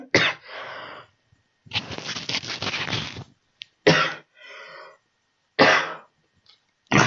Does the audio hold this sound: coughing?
yes